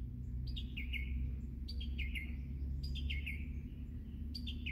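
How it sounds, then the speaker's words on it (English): Several birds chirp in short repeated calls against a steady low outdoor rumble, fairly distant and clear. "Can you hear the birds in the background?"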